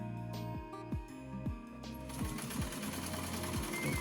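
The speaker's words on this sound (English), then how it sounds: "This particular machine I've used to sew leather" Sewing machine stitching corset panels together, a fast steady mechanical chatter of the needle with a rhythmic thumping at first that settles into a continuous run, close and fairly loud.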